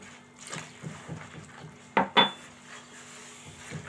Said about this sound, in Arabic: وغادي نضيف دوك كاس ديال الماء الاول غادي نضيفو، وغادي نخلط